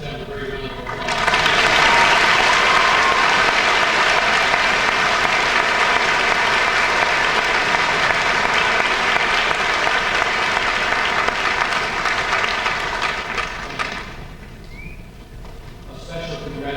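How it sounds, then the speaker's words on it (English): An audience at a 2005 high school graduation in Fairfield, Iowa breaks into loud, sustained applause lasting over ten seconds, dense and close, then fades as it ends. "Let's have a great round of applause."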